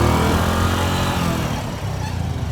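A motorcycle riding through city traffic in Medellín, Colombia, its engine a loud, close, continuous drone that eases slightly before picking up again amid road noise.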